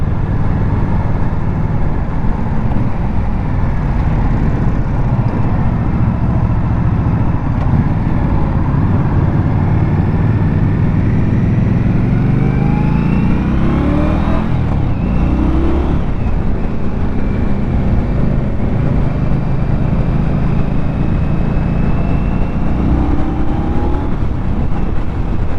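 A 2022 Indian Scout Bobber motorcycle engine on a test ride, loud and constant with wind rush, its pitch sweeping up through the gears around the middle before settling back into a steady drone.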